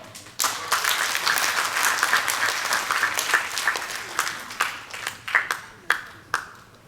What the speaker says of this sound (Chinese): 然后拍手一下啊。